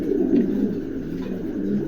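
A young adult male pigeon of an eight- or nine-feather tail breed coos loudly and close, its low throaty calls running continuously in rolling pulses.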